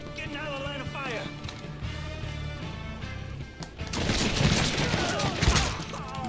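Gunfire from a Mafia 3 firefight, with sharp crackling bursts that grow louder and denser in the second half over continuous game music and sound effects.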